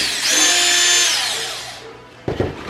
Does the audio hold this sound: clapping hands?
no